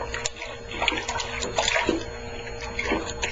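Warm liquid poured into a mixture while making simple soap, a steady close trickling and splashing stream running throughout with no talk over it.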